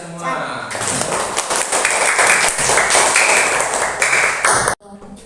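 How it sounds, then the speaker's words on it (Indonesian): Hands clapping in a group, a loud burst of applause at a classroom teaching performance session that stops abruptly near the end, with voices over it. "Tepuk tangan untuk kita semua."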